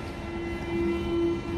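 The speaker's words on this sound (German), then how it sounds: "Da fährt der Zug runter hinten, da könnt ihr sehen, fährt er nach unten." A Berlin U6 subway train at Holzhauser Straße runs past with a steady rumble and a sustained tonal whine, moderately loud and continuous.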